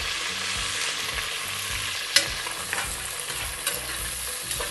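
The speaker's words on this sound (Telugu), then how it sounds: "ఉల్లిపాయలు కొంచెం ఎర్రగా అయ్యే వరకు వేయించుకోవాలి." Thinly sliced onions fry in a pan for a Hyderabadi vegetable dum biryani, a dense steady sizzle with occasional sharp clicks and scrapes of stirring, close and with no voices.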